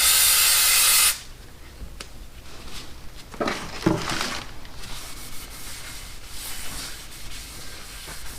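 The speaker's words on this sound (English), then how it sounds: "Clean these off with some brake clean." Brake cleaner sprays from a can onto a replacement rear brake rotor for a 2015 Toyota RAV4 LE in a loud, steady hiss lasting about a second, followed by softer dripping and rubbing noises.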